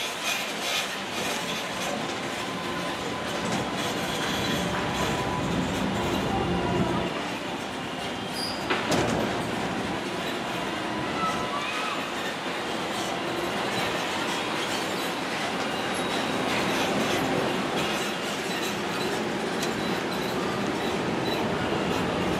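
A Disneyland Resort tram heading to the parking structure rolls steadily along, a continuous broadband rumble and rattle of wheels and motor with faint squeals, holding a constant level throughout.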